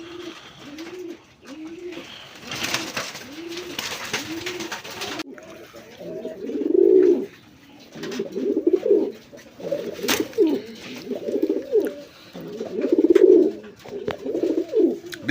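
Pigeons for sale cooing nearby in repeated soft, rolling phrases. Several birds overlap, with louder bursts later on and faint background noise.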